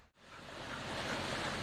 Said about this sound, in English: the sea's nice and calm